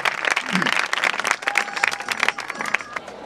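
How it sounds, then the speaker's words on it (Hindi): An audience at a school farewell and graduation ceremony claps to welcome a guest, a lively, uneven round of applause with crowd murmur mixed in. "संभव जैन के लिए एक बार पुनः तालियों से स्वागत"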